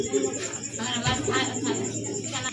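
A female Lahori pigeon at a pigeon farm sale coos softly in short repeated phrases over a steady background hum, with faint voices in the room.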